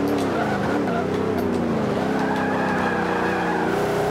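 An Audi race car in Forza Motorsport 5 at Le Mans, engine roaring steadily at high revs with shifting pitch and tires squealing, loud and continuous throughout.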